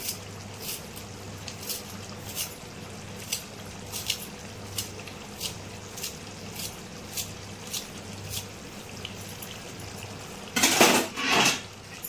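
A spoon stirs chicken curry gravy with coriander in a pan, giving regular soft clinks and scrapes against the metal about once a second, closing with a louder burst of clattering.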